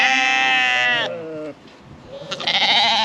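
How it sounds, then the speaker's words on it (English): Sheep and lambs bleating close by, a long loud wavering bleat followed by a shorter one and another rising call, with others joining faintly. "The lambs are out here."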